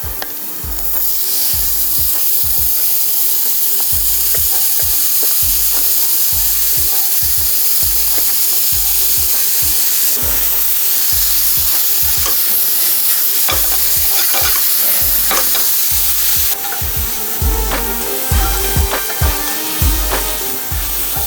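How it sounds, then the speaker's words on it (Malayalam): Cauliflower rice fries on high flame in a pan while a spoon stirs it in regular scraping strokes, the steady sizzle running underneath throughout with no talking. "നന്നായി മിക്സ് ചെയ്ത് ഹൈ ഫ്ലെയിമിൽ 2 മിനിറ്റ് കുക്ക് ചെയ്യുക."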